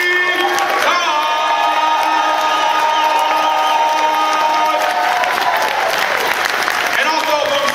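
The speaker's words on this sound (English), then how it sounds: "Ladies and gentlemen, nice round of applause for Mr. Tony Todd!" Convention crowd at a Star Trek Deep Space Nine panel bursts into loud sustained applause with cheers and whoops, dense and close throughout as a guest is introduced, voices audible amid the noise.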